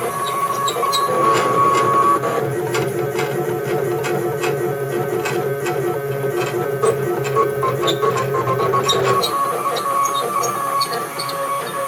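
A CNC hot-wire foam cutter with a top rail runs through a cut, giving a continuous mechanical whine and hum from its motion system with scattered small clicks, steady and close throughout.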